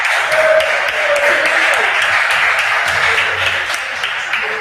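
Audience clapping for schools at a regional qualifier quiz contest, a steady, fairly close patter of applause lasting the whole stretch, with faint voices murmuring beneath it.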